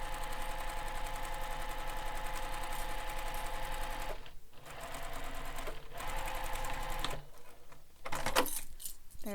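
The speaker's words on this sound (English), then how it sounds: "we're going to sew this to the foam" Sewing machine stitching fabric to foam for a backpack, running in long steady bursts of rapid mechanical whirring with two short pauses, loud and close throughout.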